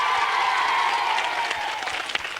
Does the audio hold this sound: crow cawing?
no